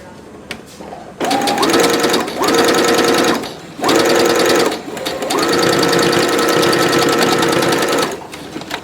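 A sewing machine stitches a foldable grocery bag in several close, loud bursts of rapid mechanical whirring, separated by short pauses.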